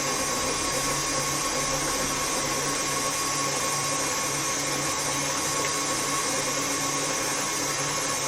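An electric mixer with a beater churns chocolate chip and toasted pecan cookie batter in a steady, loud motor whir that holds unbroken throughout.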